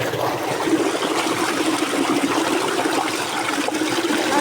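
Released water gushes in a fast, continuous stream, a loud and steady rushing roar with no pauses and no voices.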